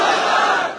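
A rally crowd roars a loud collective chant in reply to the Naara-e-Takbeer slogan, a brief massed shout that fades out at the end.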